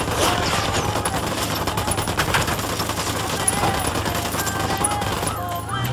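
Sustained rapid gunfire from a squad firing together in the tactical shooter Ghost Recon Wildlands, a loud continuous stream of overlapping automatic shots and impacts throughout, with faint radio-style voices underneath.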